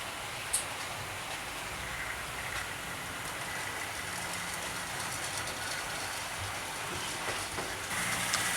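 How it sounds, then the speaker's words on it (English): A Triang model railway Maunsell L1 locomotive runs along a layout track, producing a steady continuous rumbling hiss that stays at an even level throughout with no talk. "we'll have one last running session with these 3 Maunsell locomotives"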